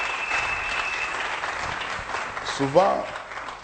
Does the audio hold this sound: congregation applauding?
yes